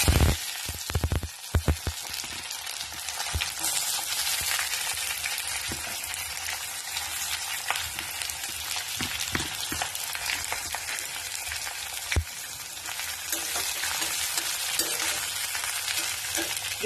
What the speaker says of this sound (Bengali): একটু গরম মশলা ফোড়ন দিয়ে এবারে দিয়ে দিলাম পেঁয়াজগুলো